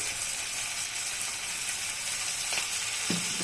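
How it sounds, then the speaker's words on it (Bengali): Bitter gourd fries in oil with a dense, even hiss that continues throughout, and a couple of light utensil clicks come near the end. "এখন করলাটাকে ভালো করে ভাজবো কড়া করে।"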